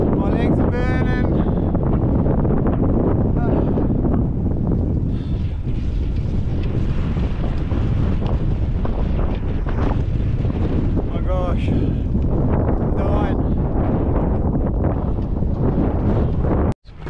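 Loud wind buffets the microphone in a constant low rumble while cycling into a strong easterly on Rottnest Island, with occasional speech nearly buried underneath.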